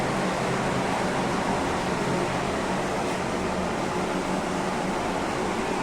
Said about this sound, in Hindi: ये पंखा चला दिया